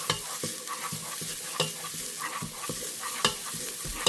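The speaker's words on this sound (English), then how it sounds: "I want to get these spices to really mix in good with my little veggie base." Spices being stirred into a veggie base frying in oil, with a steady sizzle and quick repeated scraping and tapping stirs up close, and no talking.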